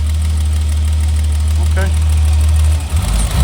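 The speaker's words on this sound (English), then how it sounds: "I feel like the engine is running smoothly" A 1991 BMW E30 325i idles steadily up close, a constant low engine hum with a brief spoken word near the end as the tone shifts slightly.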